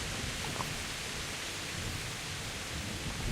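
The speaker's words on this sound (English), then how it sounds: "Raining quite heavily. Very heavily." Dense, steady hiss of heavy rain in Kingdom Come: Deliverance, pouring without a break, a constant wash of noise with no voices.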